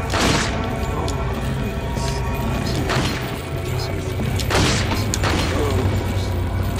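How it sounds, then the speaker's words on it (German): Sharp gunshot bangs in Resident Evil 4 crack out a few times over a busy game soundscape with rumbling background effects. "Drei Schüsse haben ausgereicht."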